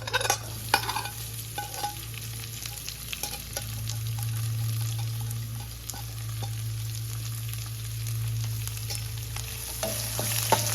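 Onion frying with crushed garlic in a pan, a continuous close sizzle with intermittent scraping and stirring strokes throughout, no voices.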